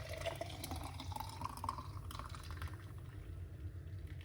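Homemade green juice is poured out of a container, giving a faint, steady liquid trickle and splash that runs unbroken for a few seconds.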